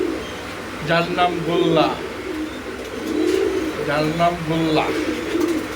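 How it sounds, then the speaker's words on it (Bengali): A pigeon offered for sale coos in repeated rolling phrases, close and clear, while someone talks over and between the calls. "আরেকটা কবুতর দেখাই। দেখুন কি ডাক, ডাকের লেগা সেরা"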